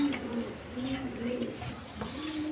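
High-flying Giribaz pigeons coo in wavering, rolling phrases, close and fairly steady over a faint background hum.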